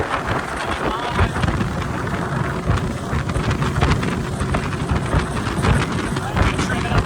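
A 1971 13ft Boston Whaler runs at three-quarter throttle, its outboard a steady loud drone buried in heavy wind buffeting on the microphone and splashing water, with no break in the noise.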